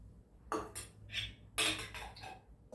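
A metal pan is picked up and handled on the stove while a little oil goes in for methi paratha, giving a few close, sharp clanks and clatters separated by short pauses, with no talking.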